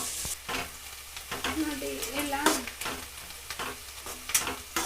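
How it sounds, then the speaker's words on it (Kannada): Onions fry and are stirred in oil for uppittu, giving a close, steady sizzle with scraping stirs. A voice speaks briefly over it. "ಈರುಳ್ಳಿನ ಕಲರ್ ಚೇಂಜ್ ಆಗೋವರೆಗೂ ಚೆನ್ನಾಗಿ ಫ್ರೈ ಮಾಡ್ಕೊಳ್ಳಿ"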